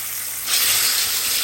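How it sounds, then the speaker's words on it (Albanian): Peppers drop into hot olive oil in a frying pan, setting off a sudden loud, bright sizzle that swells and then holds as a steady hiss. "Vaji është nxehur, tash i marrim specat."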